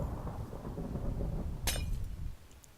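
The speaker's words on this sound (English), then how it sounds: "that glass-like sound means it's popped off" A short glassy pop from a Minecraft game rings out once, sharp and bright, over a low rumbling background that fades away soon after.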